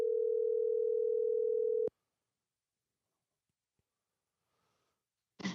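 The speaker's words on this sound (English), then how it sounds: "Should we get Big Hunter on the phone?" A steady telephone dial tone hums for about two seconds while a call is placed to a podcast guest, then cuts off abruptly into near silence before a brief faint click and a short burst at the end.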